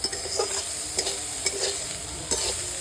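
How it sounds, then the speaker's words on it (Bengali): Leafy greens (saag) with turmeric and a little sugar fry in a pan under a constant hiss, as a spatula scrapes and stirs in short, fairly regular strokes. "দেখো আমার শাক ভাজা কমপ্লিট।"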